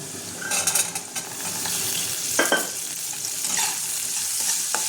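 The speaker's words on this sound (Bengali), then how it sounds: "এটা হালকা ভেজে নেব।" Green peas and potato pieces fry lightly together in a kadai for khichuri, producing a continuous close sizzle broken by spatula scrapes and a few metallic clinks against the pan.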